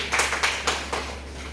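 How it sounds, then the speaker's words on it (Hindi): A few people clap for a speaker at an in-house training session on adolescence education, a short, sparse burst of separate hand claps that quickly thins out. "Thank you sir, thank you sir के लिए ताली हो जाए।"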